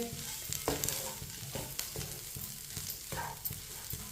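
Semolina halwa cooks while a spoon stirs it. Soft scraping strokes come in an irregular rhythm over a faint bubbling sizzle, close and fairly quiet, with no one speaking.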